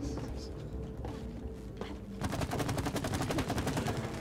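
Gun firing in the co-op video game It Takes Two, a rapid run of repeated shots in the second half over steady game background sound, with players talking throughout.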